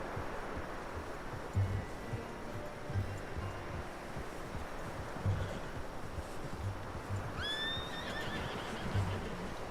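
Horse whinnying and neighing in Red Dead Redemption 2, with a rising squeal near the end over a steady bed of wind and rhythmic clip-clop hoofbeats in an outdoor camp.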